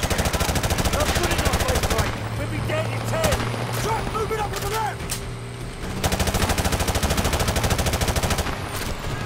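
Sustained loud automatic gunfire in Call of Duty: Modern Warfare Remastered on PC, continuous machine-gun bursts that pause briefly mid-clip under engine drone and distant talk, then resume just as heavily.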